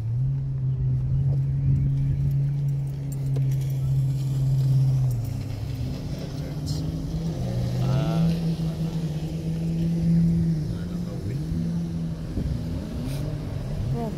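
A jet ski engine at the seaside drones steadily for the whole stretch, its pitch stepping up and down as the throttle changes, with people talking faintly over it.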